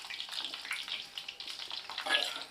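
Slit brinjals (small eggplants) frying in oil, a quiet, continuous hiss and crackle heard up close.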